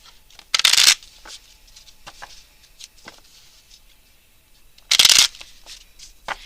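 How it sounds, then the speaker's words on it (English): Tarot cards are shuffled in two loud, crisp riffling bursts about four seconds apart, close to the microphone, with faint taps and handling noises between them and no talking. "You can fast forward through the live shuffle if you'd like to."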